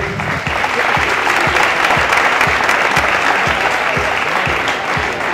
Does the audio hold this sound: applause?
yes